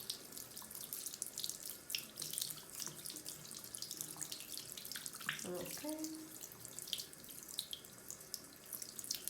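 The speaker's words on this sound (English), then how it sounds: "you just wanna really wash it out of the bristles" A makeup brush is rinsed under a running tap, with a steady, moderately quiet hiss of water splashing through the bristles and a brief spoken word partway through.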